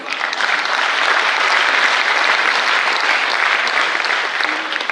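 Sustained audience applause from a crowd at a public talk, dense steady clapping filling the whole stretch at even loudness with no voices on top.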